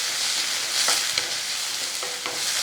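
Potato bonda masala mixture with curry leaves, chillies and chopped coriander is stirred in a pan, a soft continuous scraping over a faint sizzle with a few brief spoon knocks, no talking.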